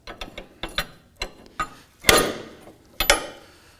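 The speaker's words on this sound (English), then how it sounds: "So I'm going to go ahead and remove this lock nut." A ratchet wrench loosens the inner tie rod lock nut on a 2007-2013 Mitsubishi Outlander, giving a close series of crisp metallic clicks in uneven bursts, with two louder, longer ratcheting strokes.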